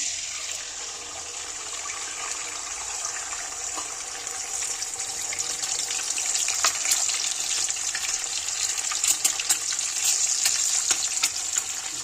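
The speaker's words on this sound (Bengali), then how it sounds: "ডিমটা সরষের তেলে ভাজবো" Two eggs frying in mustard oil in a wok give a steady, close sizzle that grows louder partway through, with a few brief crackles and no voices.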